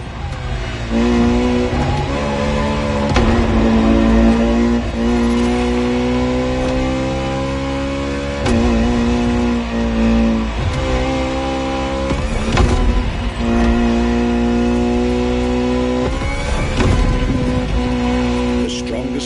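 A Ferrari V12 hybrid engine in The Crew Motorfest revs and climbs through gears with rising whines and occasional tire squeal, loud and continuous, while a narrator talks over it.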